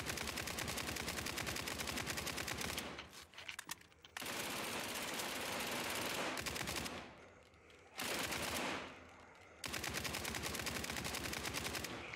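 Micro submachine gun fire in the SCP: 5K shooter game, long loud sustained bursts of rapid automatic shots broken by a few short pauses.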